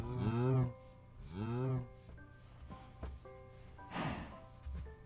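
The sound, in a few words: mooshroom cows mooing, video game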